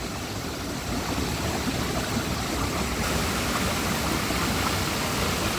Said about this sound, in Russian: Водичка вон журчит.